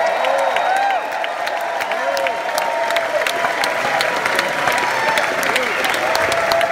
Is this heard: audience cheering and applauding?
yes